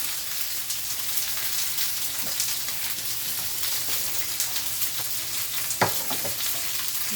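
Pork searing in a hot pan, a steady close sizzle and crackle with scattered sharper pops and a brief stirring clatter near the end, with no voices over it.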